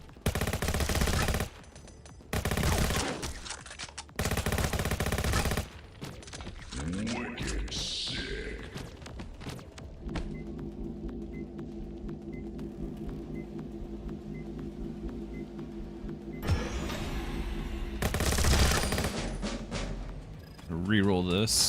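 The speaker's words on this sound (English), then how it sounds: "Yeah, I'll take the submachine gun" Submachine gun bursts in Skillshot City, a top-down battle royale game: several loud, long rapid-fire bursts in the opening seconds and again near the end, separated by quieter music and game noise, with a voice talking between bursts.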